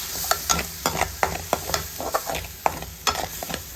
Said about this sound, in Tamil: மீன் பொரித்த ஆயிலில் வெங்காயத்தை வந்து நம்ம நல்லா என்ன பண்ணுறோம் ஃப்ரை பண்ண போகிறோம்